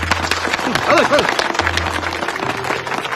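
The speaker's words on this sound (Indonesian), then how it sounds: "Mana tepuk tangannya?" An audience claps in a dense, continuous patter that swells near the middle, while someone speaks briefly over it.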